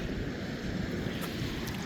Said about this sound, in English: listen to the waves lapping, crashing.